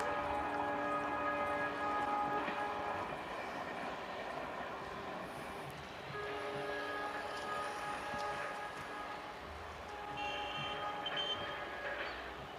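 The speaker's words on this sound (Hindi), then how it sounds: "ये तो मुझे लगता है अब तक का मेरा सबसे तेज़ तरीन डीजल लोकोमोटिव है" Fast EMD WDP4 diesel locomotive hauling a freight train past, a sustained rumbling roar with steady tonal whine and rail clatter that swells and eases slightly, heard at moderate distance without talk.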